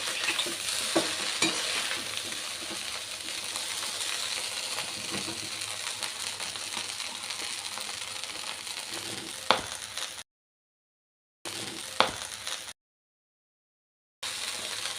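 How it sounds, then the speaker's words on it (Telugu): Curry leaves being stirred into chicken fried rice in a hot pan, a steady close scraping and tossing over continuous sizzling with a few sharp clinks, cut by two brief silent gaps. "ఫస్ట్ కరివేపాకు ఇదంతా కలుపుదాం. ఇలా అంతా కలిసేలాగా ఒకసారి ఇలా మిక్స్ చేద్దాం"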